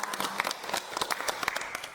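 A seated group at a village family-resilience gathering in Sendangagung claps together, a crisp, busy spatter of hand claps close by with no speech over it.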